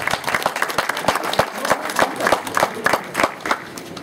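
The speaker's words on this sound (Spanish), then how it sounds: "Fuerte los aplausos para el señor alcalde." Crowd applause welcoming a district mayor at a community event in Peru, dense overlapping claps with sharp individual hand strikes standing out, steady and lively throughout, fairly close.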